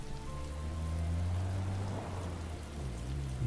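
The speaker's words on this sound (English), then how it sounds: "I'm driving sadly away in the rain." Steady rain falls on a car being driven in Heavy Rain, a dense, even hiss under a low engine drone, with no talking.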